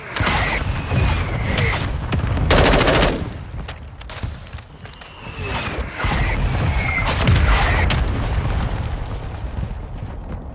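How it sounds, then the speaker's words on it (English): A mortar strike pounds the ground in Call of Duty Warzone II: a run of loud, heavy booming explosions and rumbling blasts over about ten seconds, close and overlapping, with sharp crackles between impacts. "Requesting fire mission. Target marked. Solid copy. Mortar strike on the way."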